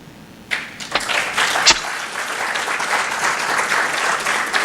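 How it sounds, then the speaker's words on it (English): An audience applauds at the end of a talk at a security conference, dense steady clapping from a sizeable crowd that starts abruptly and continues evenly throughout. "Let's give Cez a round of applause."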